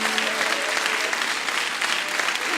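Church congregation applauding during a sermon, dense, continuous clapping filling the space, moderately loud and steady from start to finish with little else audible.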